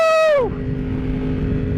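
A motorcycle engine under riding, loud and close, holding a high whining rev that drops sharply and settles into a steady lower drone.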